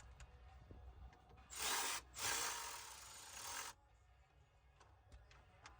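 Black plastic screws are driven into a Mercedes ML350 fuel pump control module with a power tool, heard as two close, loud whirring bursts of about two seconds each, separated by a brief pause, against a quiet background.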